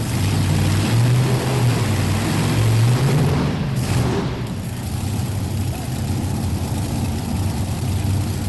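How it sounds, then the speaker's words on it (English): A pulling tractor engine drones steadily and loudly throughout at a farm machinery show, a low rumbling roar with no voices over it. "the folks won't be able to hear the tractor"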